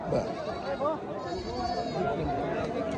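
Beetal goats bleat repeatedly at close range while several people chatter in the background at the Malegaon fair.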